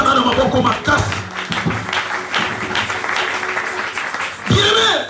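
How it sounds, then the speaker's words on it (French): A congregation at a Sunday church service applauds loudly. Dense clapping swells and fades over several seconds and surges again at the end, with voices mixed in. "Tu peux applaudir très très fort."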